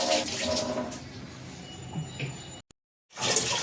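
Water runs steadily from a tap for a couple of seconds, then cuts off abruptly into near silence before the flow resumes just as strongly.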